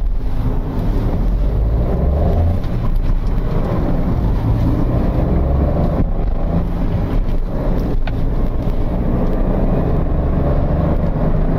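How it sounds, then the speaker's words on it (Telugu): Mahindra XUV300 SUV engine revving hard and accelerating through the gears during a top speed run, a loud steady roar mixed with heavy wind and road noise throughout, with no talk. "నేను హై రివ్యూస్లో గేర్స్ మారుస్తున్నాను."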